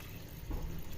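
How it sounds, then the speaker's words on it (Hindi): Water pours into a pot of beef for nihari, a short, soft splash and fill that swells briefly halfway through. "1 लीटर जितना हमने इसमें पानी डाल दिया है"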